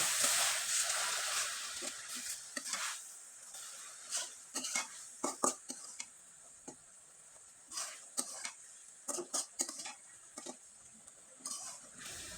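A spoon stirs a raw papaya sweet mixture in a pan, giving irregular clinks and scrapes against the metal over a soft steady hiss.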